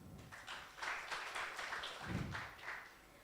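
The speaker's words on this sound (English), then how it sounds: "Please welcome her with a clap." Moderately quiet audience clapping at a health systems forum welcoming a panelist, a brief uneven burst of hands that swells and then thins out.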